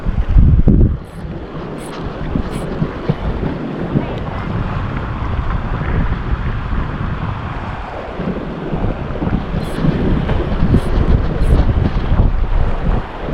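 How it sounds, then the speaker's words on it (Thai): Strong coastal wind on the shore of Ko Si Chang buffets the microphone with a loud, continuous rumbling roar, gusting harder at the start, with a wash of waves beneath. "ลมค่อนข้างแรงมากกับพื้นละนะฮะ"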